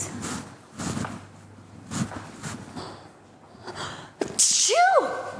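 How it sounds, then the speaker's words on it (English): A person in a home kitchen sneezes once, sharply and up close, near the end. Before it come quieter breaths and small sounds, and a squeaky tone follows right after. "I need to sneeze."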